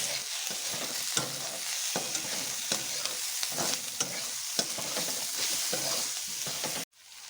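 Onions frying in a pan for Bengali potol dorma, a steady bright sizzle with frequent scrapes of stirring, heard up close and without any talk, then cutting off abruptly near the end.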